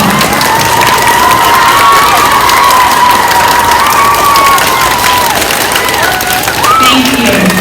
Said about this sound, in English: I think we need to give our classroom teachers a huge round of applause.